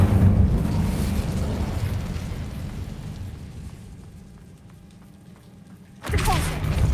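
Incendio fire spell cast in Hogwarts Legacy, a loud whooshing burst of flame that fades over several seconds, followed by another sharp fiery blast near the end.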